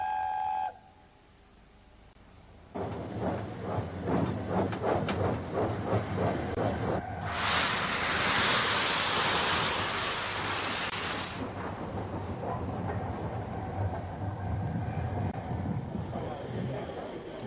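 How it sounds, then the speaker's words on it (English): The Mallard steam locomotive leaves its shed, starting with a run of distinct rhythmic exhaust chuffs that speed up, then a loud sustained roar of steam; people talk faintly in the background. "the proud locomotive leaves her shed on the way to pick up her train"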